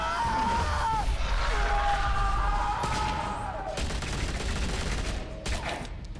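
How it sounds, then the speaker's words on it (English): Gunfire erupts in Batman: The Telltale Series, a loud barrage of shots over a rumbling low background, with a few heavier impacts toward the end and no talk. "Yeah, let's shoot at nothing"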